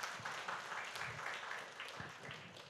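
An audience at a business talk claps for a steady stretch, a continuous dense crackle of many hands that goes on without a voice over it.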